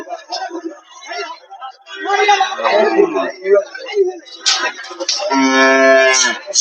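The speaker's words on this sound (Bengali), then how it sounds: "এটা হলো ফিজিয়াম জাতের একটা বকনা" A Friesian heifer moos loudly and close by at a busy cattle market. Several drawn-out calls, the last long and full, mix with people talking nearby.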